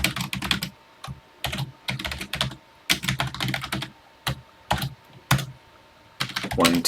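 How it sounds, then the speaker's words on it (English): Bursts of typing on a computer keyboard, typing in a TI Extended BASIC program on an emulator, with quick clusters of key clicks separated by short pauses, close and clear. "And let's get typing."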